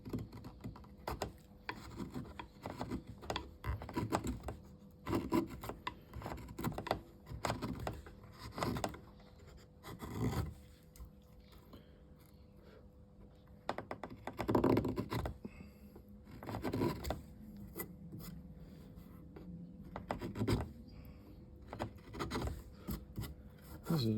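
A chisel pares shavings from a new wooden handle being fitted to an old tomahawk head, giving repeated close scraping and rasping strokes in irregular bursts, with occasional louder knocks and no talking.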